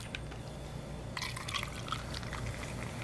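Tonic water pours steadily into a glass for a mixed drink, a soft liquid trickle that swells into a brighter fizzing stream partway through, close and alone.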